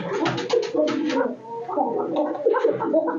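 Pigeons at a farm stall, likely running pairs of Giribaz and Kalari birds, cooing in low throaty bursts close by, with some voices and bird noises mixed in.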